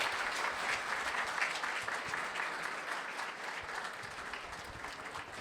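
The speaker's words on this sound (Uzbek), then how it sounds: "Qarsaklar bo'lib turish kerak shu joyda." Steady crowd applause at moderate distance, a dense wash of many hands clapping continuously without pause, fading slightly toward the end.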